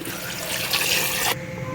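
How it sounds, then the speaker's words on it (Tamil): Half a litre of water poured into a pot of vegetables for sambar rice, a short steady splashing trickle lasting about a second and a half, close and clear before it cuts off. "அதுக்கு தேவையான 1/2 லிட்டர் தண்ணி,"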